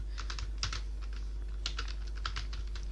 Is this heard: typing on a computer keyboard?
yes